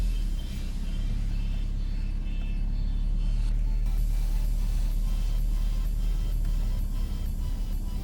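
A 2012 Citroën C5 1.6 e-HDi with an automatic gearbox, heard from the cabin while driving: a steady low engine and road rumble that builds gently as the car moves off, with a few light mechanical clicks.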